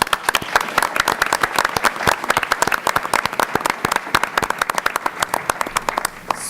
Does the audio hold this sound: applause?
yes